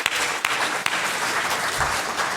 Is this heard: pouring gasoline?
no